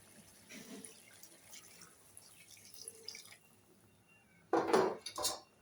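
Hot water poured into a pot of chicken curry with potatoes, a brief splashing pour near the end after quieter clinking and handling sounds in the kitchen.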